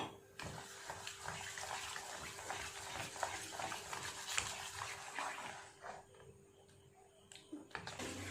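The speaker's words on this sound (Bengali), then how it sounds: "আর সামান্য একটু জল দেব।" A little water poured into banana fritter batter, a steady close trickle and splash with stirring, fading to quiet near the end.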